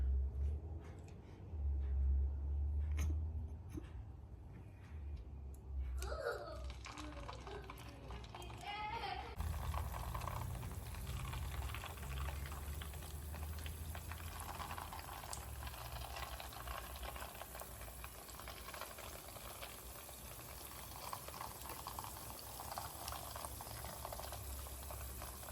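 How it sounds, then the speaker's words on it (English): Churro dough dropped into hot oil gives a rising, bubbling sizzle that settles into a steady frying hiss, with low kitchen noise and brief voices at the start. "now we're gonna put the churros into the hot oil and we're gonna fry them"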